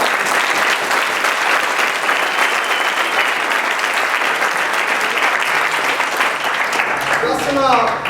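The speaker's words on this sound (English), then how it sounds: "Quick round of applause for all our speakers today." A crowd claps loudly and steadily for several seconds, the applause fading near the end as a voice starts speaking.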